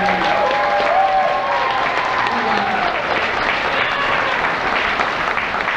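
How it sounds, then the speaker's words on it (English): Audience at a kindergarten school assembly claps steadily for a performer, a full continuous round of applause with some voices mixed in. "Let's give her a round of applause"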